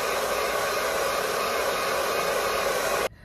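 A hair dryer blow-drying hair with a brush during an at-home salon blowout, a loud steady close whoosh that runs evenly and then cuts off abruptly at the end.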